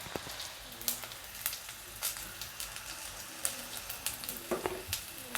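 Green beans sautéing in a pan with turmeric, salt and asafoetida, giving a steady close sizzle broken by scattered crackles and light stirring scrapes, with no voices.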